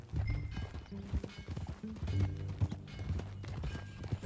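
Horses ridden at a steady clip-clop in the Western open-world game Red Dead Redemption 2, hoofbeats close and rhythmic under a low bed of ambient game sound, several animals moving together.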